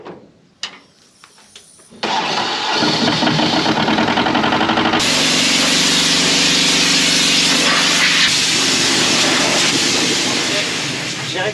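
A tractor engine starts with a few clunks, then roars loud and steady close by, the pitch rising partway through as it revs, carrying on at full power during harvest.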